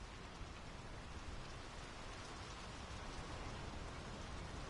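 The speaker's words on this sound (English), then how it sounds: "The rain's picking up." Rain pours down in the horror video game Draugen, a dense, steady hiss of falling water that holds an even level throughout, with no voices.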